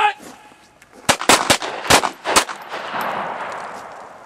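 Handgun shots ring out in a quick burst of about six sharp, loud cracks during a defensive threat drill at a shooting range, followed by a fading reverberant tail.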